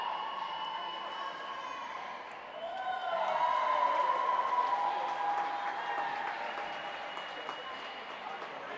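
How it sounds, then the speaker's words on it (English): Crowd of teammates cheering and applauding from the far end of a pool at a high school swimming meet, a steady indoor roar with broad reverberant noise that swells after a few seconds, plus faint overlapping voices. "You might notice at the far end of the pool, a lot of people cheering."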